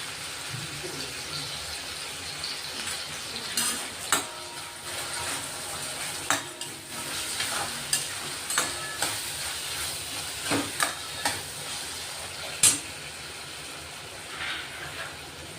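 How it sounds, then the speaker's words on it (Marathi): Chopped tomato sautés in a pan with a soft continuous sizzle, punctuated by repeated sharp scrapes and clacks of a spoon stirring against the metal at irregular intervals. "एक टोमॅटो कट केलेला तो टाकून घेतला आपण. तोही आता चांगला परतून घेणार आहे."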